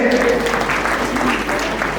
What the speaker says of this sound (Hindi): इन बालिकाओं के लिए ताली बजती रहे।